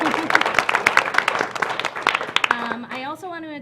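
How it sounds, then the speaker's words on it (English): Meeting audience applauding City Academy graduates at a city commission meeting, a round of clapping mixed with voices that fades as a speaker continues talking. "So I'd love to show our appreciation for their participation with a lovely round of applause"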